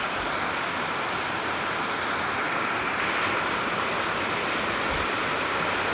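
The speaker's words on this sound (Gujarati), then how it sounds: "અહીંયા આપણે વરસાદ બહુ છે" Heavy rain pouring steadily, a dense, loud, unbroken hiss of falling water that stays even throughout, close by, with no voices.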